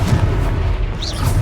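A Confringo spell explosion in a wizard video game fight against a troll comes as a loud, close rumbling boom with heavy low-end crackle over a short, busy burst.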